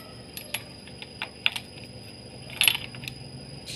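A wrench tightening a spark plug on a Honda Supra motorcycle, a series of faint, sharp metallic clicks and ratcheting ticks at an irregular pace, close by with no talk.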